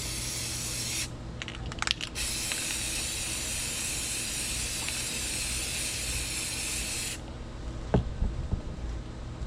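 Spray paint can hissing out white paint onto a glitter-coated tumbler for hydro dipping, a steady close hiss running about six seconds with a short burst near the start and a few handling clicks after it stops.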